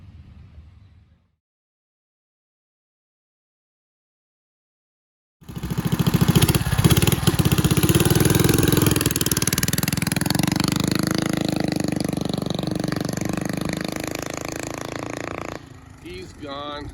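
A vintage mini bike with an old Briggs engine upgraded with a milled head, high-dome piston and high-octane fuel roars loudly and steadily after a few seconds of silence, then its note shifts near the end.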